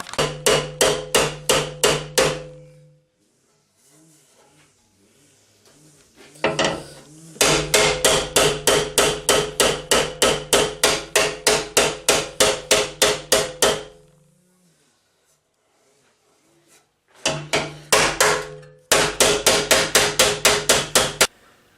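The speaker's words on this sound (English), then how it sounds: "I want to go ahead and beat the dents out, so let's get the hammer and try that." A hammer beats dents out of a removed vehicle bumper in fast, loud runs of metallic blows. Several bursts of rapid, evenly spaced strikes are separated by short quiet pauses.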